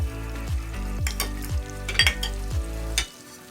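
Butter melting and brown sugar being stirred in a hot pan, with a steady sizzle under regular scraping strokes about every half second, close and fairly loud.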